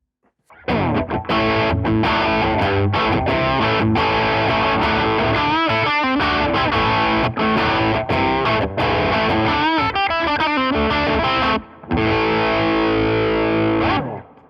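Classic-rock guitar riffing plays through a Rajani Amps VOD-50 overdrive channel with the EQ pushed toward a scooped setting, loud and continuous, broken by a short gap before the final phrase.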